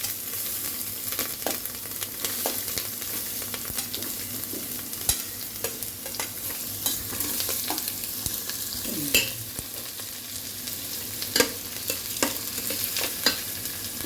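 Onions, green chillies, ginger and dal sautéing in a pan for tomato kichadi, a soft continuous sizzle broken by frequent stirring scrapes and clicks, close and fairly quiet with no talk.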